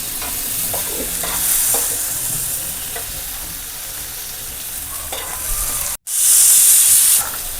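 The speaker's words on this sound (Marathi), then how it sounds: "तर भाजून झालेला आहे आपला तर टोमॅटो" Tomato roasting in a pan for a Marathi black mutton rassa, a loud close sizzle and hiss with scraping stirs, then a brief break and a sharp burst of steam.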